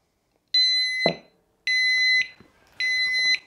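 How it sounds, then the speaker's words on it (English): A KOVIX KNX-6 disk brake lock motion alarm gives three loud, piercing electronic beeps, each about half a second, spaced evenly with short gaps of quiet and faint handling noise. "once it does that loud beep, that's it, you're set."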